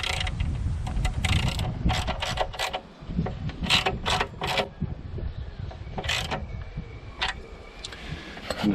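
Tightening a nylon nut and washer onto a motorcycle rear hugger on a 1998 GSXR 750 SRAD produces a series of sharp close metallic clicks and ticks in irregular bursts over faint background noise.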